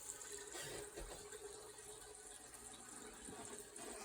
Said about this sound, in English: Okay, I got the siphon started.